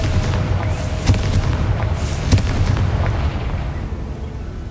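A Confringo spell explodes in the video game Hogwarts Legacy, loud booming blasts over a dense rumbling game background, with a couple of sharp impacts standing out and no speech.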